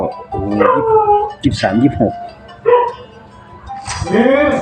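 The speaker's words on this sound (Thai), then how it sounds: "พอดีเสียงหมาเห่านะครับ" A dog barks and yips in short bursts, somewhat distant, while someone speaks over it in the foreground.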